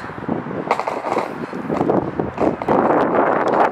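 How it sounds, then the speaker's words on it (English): Blustery wind buffets the microphone in uneven gusts, mixed with rolling, rumbling noise and scattered clatter close by. "It's still windy."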